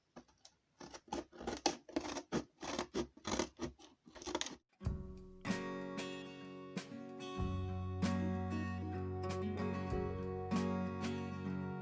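Scissors snip through the corners of cardboard for a box craft, several sharp close cuts in quick rhythm, followed by a steady ringing tonal sound with clicks.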